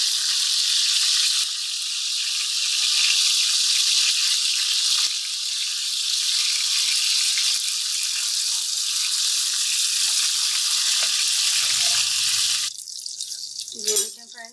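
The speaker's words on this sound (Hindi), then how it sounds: "ये 2 से 3 मिनट हो गए इसे फ्राई होते हुए।" Chapli kebabs fry in a pan over medium heat, giving a steady, bright hiss of sizzling oil close up, which drops away near the end as clatter takes over.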